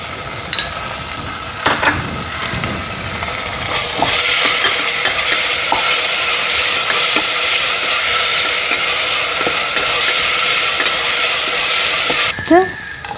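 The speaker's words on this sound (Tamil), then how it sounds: "பீன்ஸ் கேரட் போட்டு நல்லா வதக்கணும்." Beans and carrots sauté in oil for a chicken and vegetable pulao, giving a steady loud sizzle and hiss that runs throughout, with a few clinks of a spoon stirring against the pan near the start and end.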